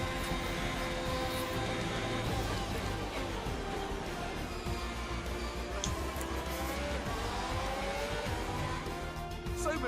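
Formula 1 car from the game F1 2021 driving a slow in-lap after the Bahrain Grand Prix, a continuous buzzing engine note with shifting pitch and some tyre noise, steady and fairly loud with no pauses.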